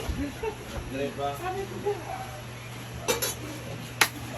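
Clinks and a sharp metallic clack come as a lid goes onto a cooking pot, two brief impacts near the end after a stretch of talking, close by in a kitchen.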